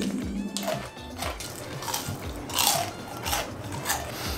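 Crunchy BHC Poteking fried chicken is bitten and chewed up close, giving repeated crisp, crackly crunches at moderate volume with no talking over them.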